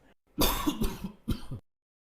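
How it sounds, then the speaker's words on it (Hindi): A man coughs twice, a harsh burst followed by a shorter second cough, close and loud against near silence. "आपको खांसी क्यों आ रही है?"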